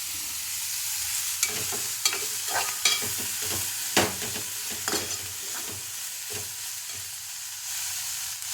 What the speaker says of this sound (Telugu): ఇలా కలిపి స్టవ్ తగ్గించుకోవాలండి సిమ్లో పెట్టుకోవాలి